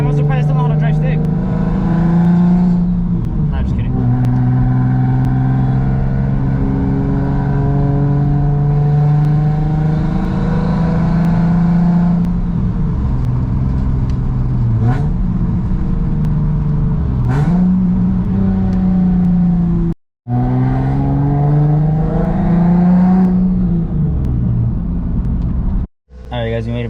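A turbocharged Nissan 350Z with a manual gearbox accelerates on a drive around the block, its engine note climbing in repeated loud sweeps and dropping back between shifts, close and continuous throughout.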